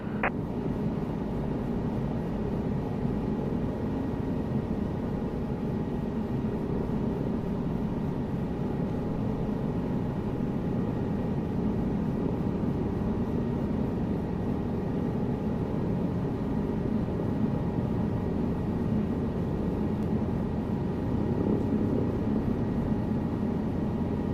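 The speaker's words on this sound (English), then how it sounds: "Slowly raise the collective, get light on the skids, and take off to a 2-foot hover." A helicopter in Flight Simulator 2024 lifts off to a low two-foot hover, its rotor and turbine holding a steady, even rumble and whine throughout at moderate level, with no talking.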